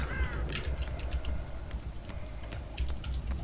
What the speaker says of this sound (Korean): 일단 까마귀 날았고 여기 위쪽이다